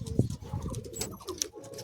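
Madrasi high flying pigeons in a sale cage, cooing in low, soft repeated murmurs close by, with a few brief chirps and light rustling, and no talking.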